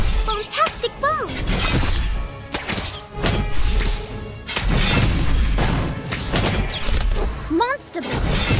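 Fantastic Bomb spell explosions from the Harry Potter Magic Awakened video game, several heavy booming blasts with crashing, shattering impacts and whooshing magical effects, mixed with game sounds and voice.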